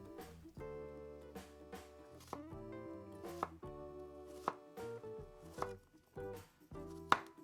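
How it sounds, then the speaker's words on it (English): A knife cuts through stacked sage leaves on a cutting board, with a steady series of close, crisp chops repeating about once a second. "Grab some pieces, make a stack, and slice them again."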